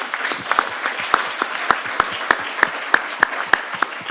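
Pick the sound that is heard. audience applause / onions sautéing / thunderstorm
audience applause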